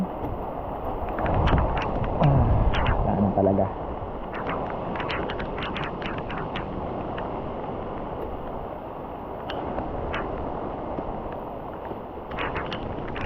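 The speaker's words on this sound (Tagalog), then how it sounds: "sobrang lakas po ng hangin" Very strong wind roars and buffets the microphone outdoors among trees and plants, a constant rough rush that surges louder early on, while a voice speaks briefly.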